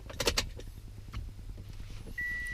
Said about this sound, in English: So now we're going to start the truck up.